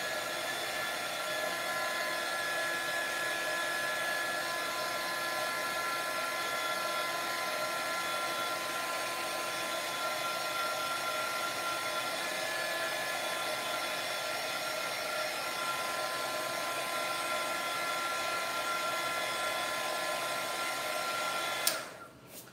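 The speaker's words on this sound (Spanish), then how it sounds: "Por eso es importante tener un secadorcito a la mano, tener algún elemento que ayude a hacer el secado." A small hair dryer blows steadily and loudly at close range for over twenty seconds, drying a watercolor painting on Roman paper, before cutting off with a click at the end.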